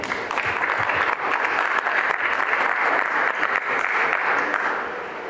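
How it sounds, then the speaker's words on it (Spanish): A crowd at a book presentation claps loudly and steadily, a dense wash of applause that holds for several seconds before easing slightly at the end. "Démosles un fuerte aplauso."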